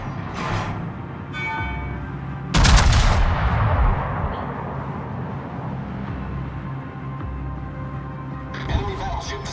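Heavy naval guns boom out in World of Warships, a big broadband blast about a third of the way in that rumbles and decays over a couple of seconds, with lighter shots near the start and end over steady ship and engine noise.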